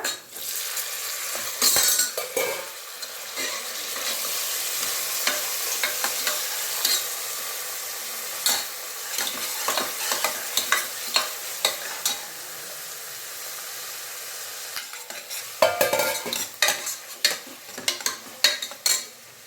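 Tomato and softened onion frying in a pan for a double bean sambar, with steady sizzle and repeated scraping and clinking of a spoon stirring against the pan, loud and close with no talk.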